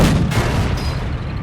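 Tank cannon blasts and gunfire in Company of Heroes hit as loud, booming battle noise in a dense cluster of overlapping explosive thuds that fade into rumbling.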